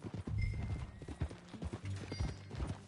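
Horse hooves in Red Dead Redemption 2 clip-clop in a quick, uneven rhythm on hard ground, close and fairly clear, with faint ambient tones behind.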